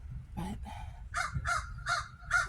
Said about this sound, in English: There's a crow in our tree.